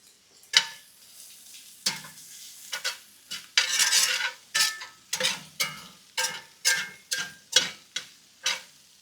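Butter and garlic sizzle in a pan while a utensil stirs in a steady run of repeated scraping strokes, close and moderately loud, with no talking.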